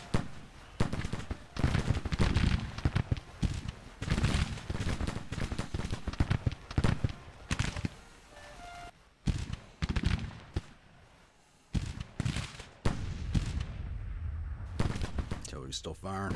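Crackling musket volleys and scattered shots from a Civil War battle game, loud and irregular, coming in dense bursts with brief quiet gaps and a voice talking between them.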